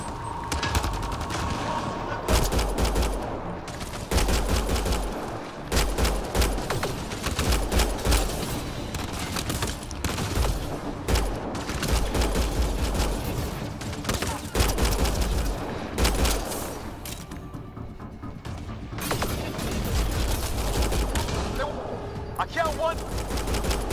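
Gunfire in the Mass Effect Andromeda video game, dense bursts of automatic and repeated shots rattling almost nonstop for the whole stretch, loud and close, with voices occasionally heard amid the combat.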